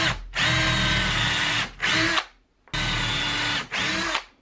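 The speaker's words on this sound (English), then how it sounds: "keep the drill as level as I can while I go down here" A power drill bores into a 2x4 of wood, whining in two long bursts, each followed by a brief higher rev, close and loud with short pauses between.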